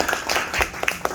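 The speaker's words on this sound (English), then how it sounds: "Give him applause." Short burst of applause for an author at a talk on Black creativity in Puerto Rico, close, uneven handclaps from a small group with distinct individual claps rather than a full ovation.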